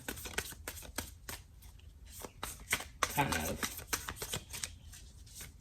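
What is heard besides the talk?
shuffling a deck of cards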